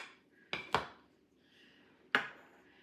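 A utensil tosses broccoli and finely diced red onion in a bowl for a broccoli cranberry salad, giving three sharp clinks, two quick and one later, with soft rustling between in a quiet room.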